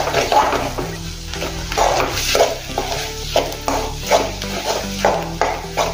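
Masala being stirred into stuffed eggplant frying in a pan, with rhythmic spoon scrapes and clanks against the pot over a low sizzle, close and fairly loud, no talking.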